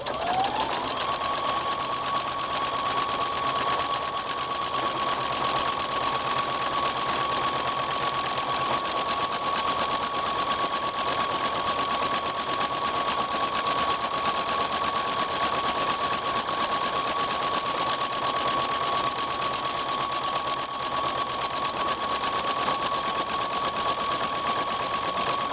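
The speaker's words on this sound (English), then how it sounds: "It's best to do a buttonhole on medium to medium high speed so that it feeds evenly." A Baby Lock Ellure Plus sewing machine stitches a buttonhole at medium to medium-high speed, a steady, even mechanical whir with rapid needle chatter and a constant pitch for about twenty-five seconds, close and uninterrupted.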